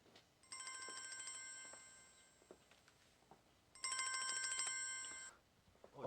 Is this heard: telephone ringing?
yes